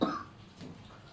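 A single short cough from an adult lecturer during a Hindi-language chemistry class, close and fairly loud at the start, then fading into quiet room tone.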